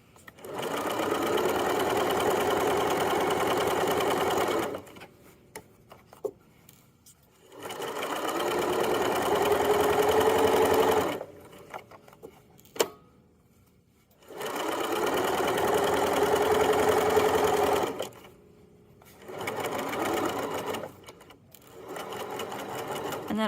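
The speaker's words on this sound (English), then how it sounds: "and then I'll just sew this whole bottom" A sewing machine runs in several steady bursts while stitching the bottom seam of a drawstring backpack, with short quiet pauses between runs and no talk.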